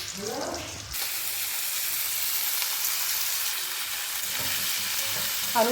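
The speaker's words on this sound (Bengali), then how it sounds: "পেঁয়াজটা একটু ভাজাও ভালো করে" Onions and garlic frying in a pan, a steady loud sizzle that runs throughout after a brief softer start, with a faint voice near the beginning.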